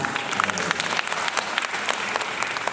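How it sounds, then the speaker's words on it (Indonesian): An audience at an education dialogue event claps in steady, dense applause throughout, fairly close and even with no voices. "Tepuk tangan."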